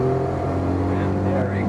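A 1989 Honda Acty kei van's 550cc engine revs hard toward 6000 RPM, a loud, sustained, strained drone close up from inside the cabin.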